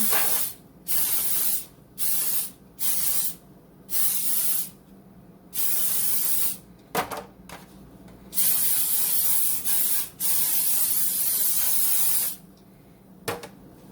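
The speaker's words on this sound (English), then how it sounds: "I'm going to spray my loaf pan" Repeated short hissing bursts of cooking spray aimed into a loaf pan, close up, followed by a few longer sprays with brief pauses between.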